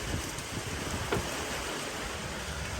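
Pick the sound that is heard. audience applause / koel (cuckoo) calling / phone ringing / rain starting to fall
rain starting to fall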